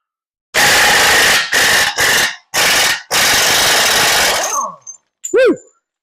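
Loud bursts of an impact wrench hammering off an axle nut in short repeated runs, up close, followed by a brief rattling spin-down and a squeal.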